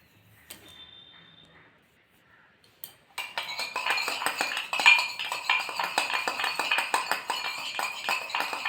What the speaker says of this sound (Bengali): এই তিনটেকে একসাথে মিশিয়ে ততক্ষণ পর্যন্ত ফেটাবো যতক্ষণ একটা ক্রিমি